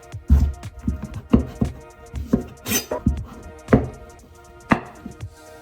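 A knife cutting pumpkins in half on a chopping board, with repeated firm thuds and crunches at an uneven rhythm, close and fairly loud, each cut followed by a brief scrape.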